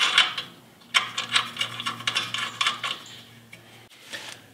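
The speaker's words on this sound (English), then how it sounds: "Grab your nut and then thread it onto the bottom side of the bolt." A metal nut is threaded by hand onto a tie rod end bolt during a press-in wheel bearing replacement, giving close, irregular metallic clicks and light scraping taps with no talking.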